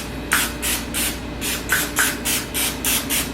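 A cooking spray can mists a griddle before tortillas are warmed, giving nine or so short, close hissing bursts in a steady rhythm.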